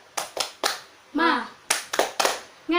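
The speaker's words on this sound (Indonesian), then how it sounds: "kita tepuk semangat terlebih dahulu yuk" Sharp group claps in a short rhythmic pattern, a few quick beats at a time, alternating with third-grade children's voices chanting together in a classroom.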